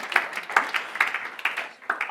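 A small audience gives brief, sparse applause as a vote on a fish's name, with distinct separate claps landing in a loose, uneven rhythm at moderate volume.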